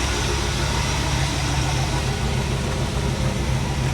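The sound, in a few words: Chevrolet small-block 350 engine idling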